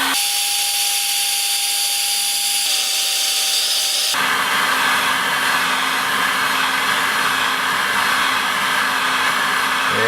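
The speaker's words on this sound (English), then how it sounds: "Let's get the heat gun and let's see if we can't reflow that down." A heat gun reflows solder on a flight-controller chip, a steady airy blowing hiss that steps up louder partway through and continues close and unbroken with no talk.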